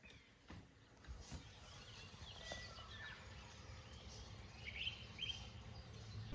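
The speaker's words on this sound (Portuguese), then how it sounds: "Aqui eu acordo com os barulhos dos pássaros, os barulhos dos animais" Faint birdsong in rural countryside near Lyon, France, where cows, a horse and sheep are kept nearby; a few scattered chirps rise over a steady low outdoor background, with no one speaking.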